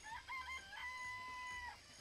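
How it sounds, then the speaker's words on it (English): Chickens in a coop in the Danganronpa video game, a rooster crowing with a long drawn-out call over soft clucks, fairly faint, steady and continuous. "I remember there were some chickens in the chicken coop."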